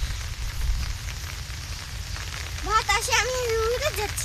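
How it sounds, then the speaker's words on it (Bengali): Steady rain falls on an open field during flower planting, a constant broadband hiss throughout, with people talking over it in the second half. "হ্যাঁ দেখুন বৃষ্টি হচ্ছে।"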